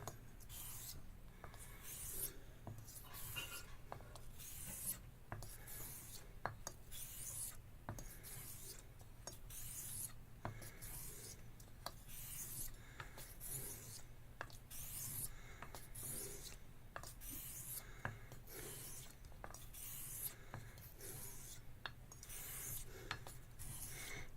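A straight razor is honed to remove micro chips, producing quiet, rhythmic scraping strokes of steel across a stone, repeated evenly and faintly in close-up.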